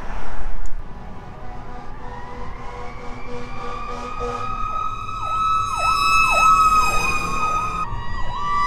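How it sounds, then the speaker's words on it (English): Two fire trucks drive past with loud sirens: a rising wail swells into a fast warbling yelp that grows stronger as the trucks come near, over the hum of traffic. "2 fire trucks just happened to be driving by"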